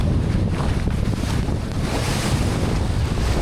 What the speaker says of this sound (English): The swell's up, the wind's up.